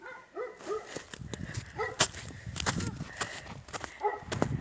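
A dog barks and yips repeatedly in irregular bursts, close by, with some whimpering between barks and faint rustling movement, outdoors in snow.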